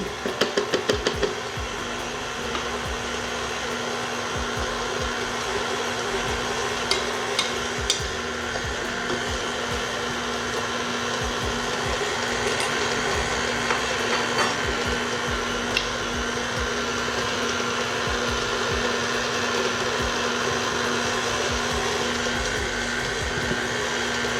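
An electric mixer beats royal icing for Easter sugar cookies, its motor humming loud and steady without a break, with a few light knocks along the way.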